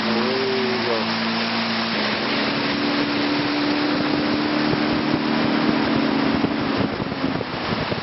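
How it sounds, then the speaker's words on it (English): Steady motorboat engine drone with wind and water rush, the engine pitch shifting as it gains speed; continuous and fairly loud. "As soon as he's past canoe areas, he speeds up again. The boat picks up speed."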